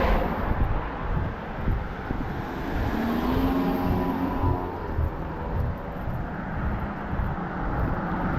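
Gusty wind buffets a microphone on a 40-degree walk in Maine, a steady loud low roar and rumble lasting throughout with no talking.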